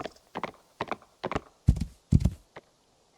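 Horse hooves clip-clop in the Rising World video game as a short run of distinct, evenly paced footfalls, with the last few heavier, closer thuds before a faint final step.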